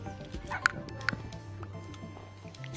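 Minecraft dog barks in a few sharp yips against low background game ambience, quiet overall, with faint voices of players in the mix.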